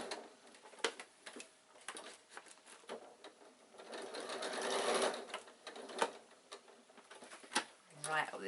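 A sewing machine stitches across the bottom and up the side of a baby away-day bag, a steady mechanical whir with ticking needle strikes, rising and falling in bursts over about eight seconds at moderate level.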